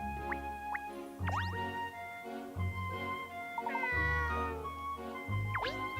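A cat meows several times in the Layton's Mystery Journey video game, short rising and falling calls over a steady, looping game music bed, fairly close and clear.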